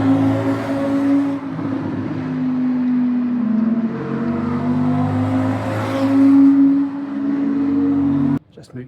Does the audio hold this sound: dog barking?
no